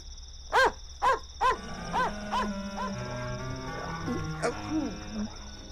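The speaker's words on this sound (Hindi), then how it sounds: "ये तो कुत्ते की आवाज आ रही है।" A dog barks nearby in a rhythmic series of about eight howling, moaning barks, the first few loud and evenly spaced, the later ones fainter and drawn out over a low steady hum.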